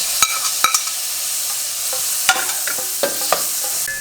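Tomato dropped into a hot pan of oil while cooking a spicy shrimp roast, giving a steady close sizzle with a few sharp crackles and clicks of stirring, no voices.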